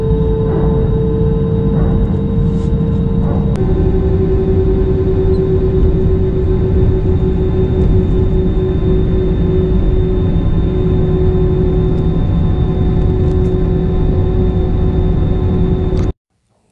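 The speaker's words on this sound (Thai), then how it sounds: "ตอนนี้เครื่องก็กำลังไปตั้งลำที่หัวสนามเพื่อเตรียมเทคออฟครับ" Steady, loud jet engine whine and low rumble from inside a Thai Vietjet airliner as it taxis to the runway, with a faint shift in pitch partway through.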